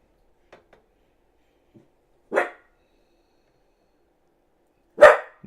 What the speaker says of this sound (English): Now he comes in here and tries to start barking.